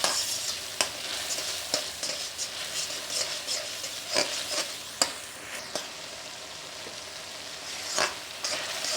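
Masala for chicken biryani sizzling in a pan while being stirred, with steady frying hiss broken by repeated scraping stirs of the spoon against the pot, close and moderately loud, no talking.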